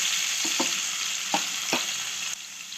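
Tomato pieces sizzling in ghee in a pan, a steady close hiss with a few soft clinks and stirring taps, no talking.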